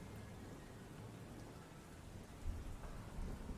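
Steady, faint rain falls with a soft hiss over a low rumble, a couple of slightly louder swells toward the end suggesting distant thunder; no voices.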